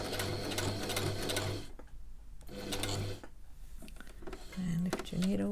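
A sewing machine back stitching a fabric face mask runs in close, steady bursts with short pauses between them. Faint speech and soft handling noises fall in the gaps.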